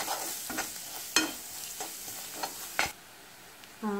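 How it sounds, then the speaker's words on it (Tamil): Masala spices sautéed in oil for chicken bonda, with a soft frying sizzle and several distinct scrapes of a spoon against the pan, close up. A brief quiet gap comes near the end before the sizzle resumes. "இந்த மசாலாவை நல்லா எண்ணெயில் ஒரு நிமிஷம் வதக்கிக்கலாம்"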